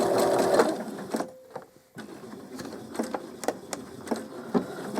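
A sewing machine stitches fabric for an owl toy in short runs, with rapid mechanical whirring, a brief pause, then bursts of clicking stitches, close and moderately quiet.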